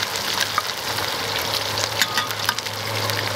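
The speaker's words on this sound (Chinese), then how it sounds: "炸这个啊，油温不能太高的，太高不行，慢慢的炸" Pork ribs deep-frying in hot oil, cut into pieces and fried slowly over moderate heat, give a steady close sizzle with scattered crackles and pops running throughout and no talking.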